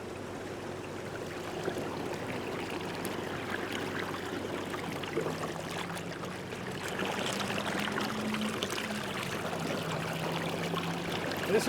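Water draining steadily from a clogged downspout on a commercial building's gutter, a continuous splashing trickle and gush heard up close that grows slightly louder toward the end.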